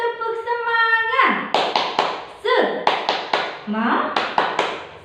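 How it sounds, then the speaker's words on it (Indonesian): A classroom group does a rhythmic spirit-clap routine (tepuk semangat): voices chant a short call, then tight bursts of synchronized hand claps, repeated several times in a clear rhythm. "Yuk teman-teman, agar lebih semangat kita tepuk semangat dulu"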